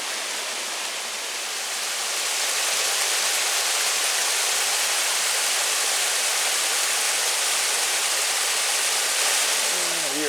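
Waterfall cascades at Blowing Rock pour in a dense, steady broadband rush, loud and continuous, swelling slightly at first and holding without pause.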